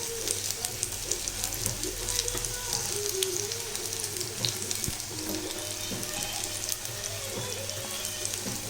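Capsicum bajji deep-frying in hot oil gives a steady, dense sizzle and bubbling that runs throughout, close and fairly loud, with faint kitchen noises beneath.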